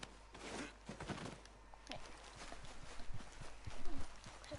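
A horse in the video game Red Dead Redemption 2 walks with steady, close clip-clopping hooves in a regular rhythm, with quiet outdoor ambience underneath.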